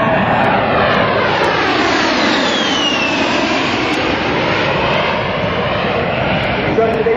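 An A-10 Warthog jet roars loudly and steadily at an air show, a broad continuous engine rush with a sweeping pitch shift as it passes, while an announcer's amplified voice talks over it.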